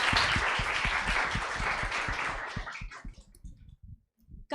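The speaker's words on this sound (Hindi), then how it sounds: "तालियां गाइस, तालियां." Applause from an audience at the PW UGC NET award ceremony, dense clapping that thins into scattered individual claps and stops near the end.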